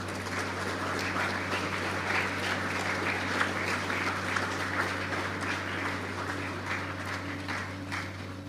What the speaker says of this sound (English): let us in a special way say thank you to our parents with a round of applause